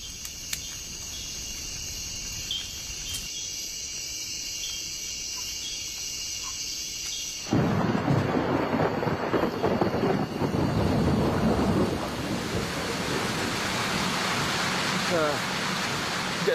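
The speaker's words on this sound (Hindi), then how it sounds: "पिछले करीब 4 घंटों से बारिश हो रही है और बिजली चमक रही है, बादल गरज रहे हैं।" Heavy thunderstorm rain roars steadily, first with a shrill insect chorus over it, then a louder broadband downpour with low rumbling thunder underneath.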